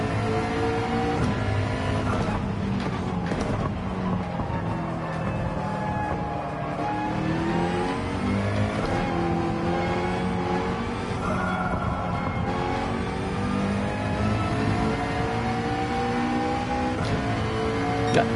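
Race car engine in Gran Turismo 7 revving steadily and shifting through gears for the whole stretch, loud and continuous with rising and falling pitch sweeps, no talk over it.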